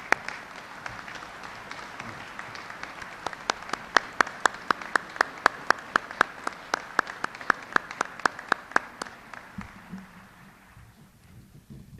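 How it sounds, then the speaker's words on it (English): Applause from the audience at a 2011 Veterans Day ceremony at Arlington, honouring veterans' national leadership: a steady wash of clapping with sharp individual claps standing out, sustained for about nine seconds before fading into quiet. "please join me in recognizing our veterans' national leadership with your applause"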